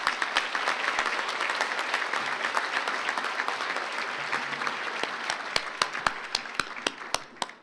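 An audience at the Standing Bear Breakfast honoring scholarship recipients bursts into sustained, dense applause that stays loud throughout, thinning into a few distinct, sharp individual claps near the end.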